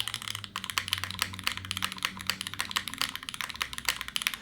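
Rapid clattery typing on a Keycult TKL mechanical keyboard, a dense run of sharp, close key clicks with a faint low hum beneath.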